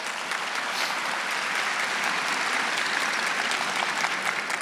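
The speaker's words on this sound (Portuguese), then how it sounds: "Então aplauda para valer." A church congregation bursts into steady, dense applause that continues evenly throughout, full and moderately loud.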